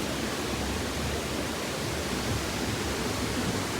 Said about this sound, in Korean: 난간에 다가가니 폭포와 강이 바로 앞에 있어요.